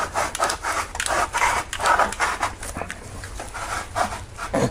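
A Delkevic exhaust on a Kawasaki Concours 14 (GTR1400) being forced over a tight-fitting pipe, heard as close, irregular scraping and rubbing bursts of uneven strength with no speech.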